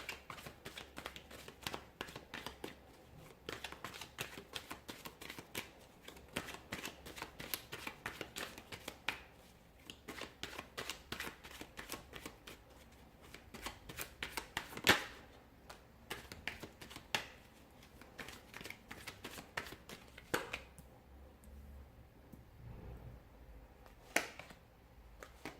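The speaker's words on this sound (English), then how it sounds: "So we'll give the cards a shuffle" Tarot cards are shuffled repeatedly up close, a long run of quick papery riffles and taps with brief pauses between bursts.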